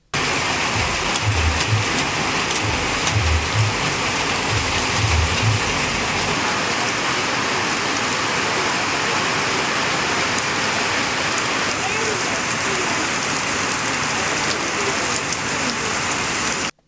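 Heavy monsoon rain pours steadily during a strong thunderstorm in Tamil Nadu, a dense, continuous hiss of drops on surfaces that holds at the same loud level throughout, with a few low rumbles near the start.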